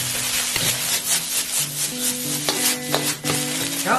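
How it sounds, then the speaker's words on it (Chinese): Fried rice with shrimp stir-fried over high heat in a wok, loud scraping and tossing of rice against the pan with steady sizzling, close with no voices. "然后大火翻炒30秒"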